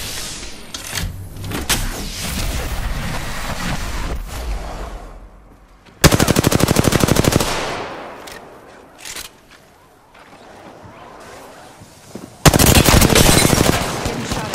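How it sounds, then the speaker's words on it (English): Enemy gunfire in the Apex Legends battle royale game, loud rapid automatic bursts with sharp repeated cracks, arriving in several separate volleys with quieter gaps of other game sounds between them. "The enemies are shooting at me."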